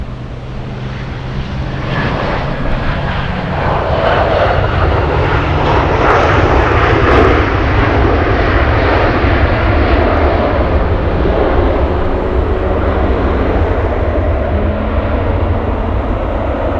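Jet engines of an Alaska Airlines Boeing 737 at Anchorage airport make a loud, steady roar that swells slightly and holds for many seconds, with no talking.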